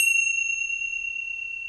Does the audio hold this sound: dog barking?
no